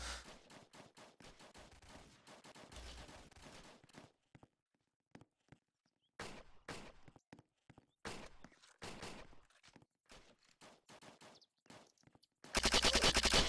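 Rapid bursts of gunfire from a gun in a third-person apocalypse shooter game, with sharp shots in dense clusters, gaps of near silence, and a loud sustained roar of fire at the very end.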